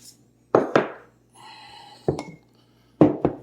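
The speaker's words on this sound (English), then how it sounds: "I'm going to mix all of this together so it's well incorporated" A stiff spatula mixes zucchini cake ingredients in a bowl, making a few distinct, close knocks and clinks in pairs against the bowl, separated by quiet gaps, with a brief faint tonal hum in between.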